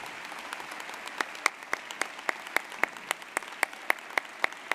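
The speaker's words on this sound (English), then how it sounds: "please join me in giving, if you will, another round of applause to the Honorable Congressman James E. Clybur" Audience at a university fall commencement ceremony clapping in steady applause, a moderate crowd heard from a distance with a few sharper individual claps standing out.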